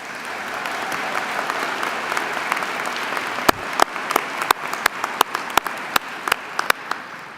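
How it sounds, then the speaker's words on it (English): A university commencement audience in an indoor hall applauds steadily for several seconds, and toward the end scattered louder individual claps ring out over the fading crowd clapping. "Let's give them another round of applause."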